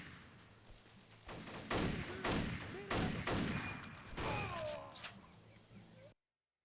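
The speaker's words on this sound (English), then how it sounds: "That sounded like a shotgun." Repeated gunfire from the Xbox 360 World War II game Battle for the Pacific, a rapid cluster of loud broadband bursts over about four seconds with some slower reports, over a steady low game backdrop.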